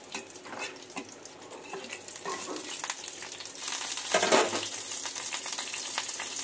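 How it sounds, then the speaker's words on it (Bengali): A dried red chili frying in hot mustard oil in a home kitchen, a continuous crackling sizzle that swells and grows louder midway, with no talking. "লঙ্কাটা একটু ভাজা ভাজা করে নিই।"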